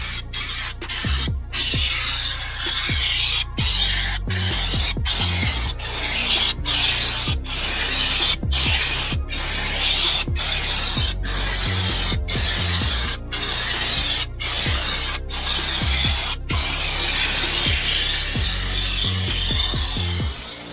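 Spray gun applying Raptor liner bed coating to the bed of a 2006 Toyota Tundra, a loud, steady hissing spray running nearly continuously for about twenty seconds, broken by brief regular pauses as the trigger is released.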